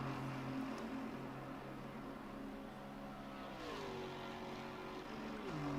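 A BMW M4 GT3 race car in a racing video game drones with a steady engine note that shifts in pitch a couple of times as it changes speed, a faint, continuous hum with no talk.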